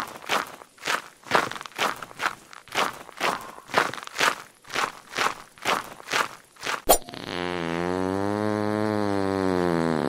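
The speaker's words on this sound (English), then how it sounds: "these footsteps sounds like I'm eating some freaking deep fried potato chips or something" Crunchy footsteps in the video game Labyrinthine, about a dozen evenly paced loud crunching steps close by, then they stop abruptly and a sustained droning tone takes over; no speech.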